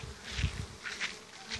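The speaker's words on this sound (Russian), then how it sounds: "А туда пчелы, туда и аж туда." Bees fly around an apiary, their buzzing drones swelling and fading as insects pass near the microphone, with faint low rumbling underneath.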